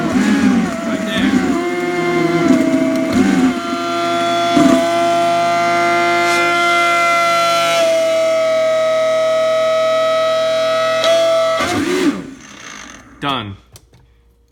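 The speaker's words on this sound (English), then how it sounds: "That sound is the Vitamix growl" A Vitamix blender growls steadily while churning frozen ice cream, a loud, droning motor tone that holds for several seconds, then winds down and stops.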